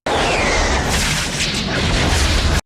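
Napalm airstrike explosion in the film Forrest Gump, a massive roaring blast with a sustained rumbling fireball that fills the whole moment, loud and close before cutting off abruptly.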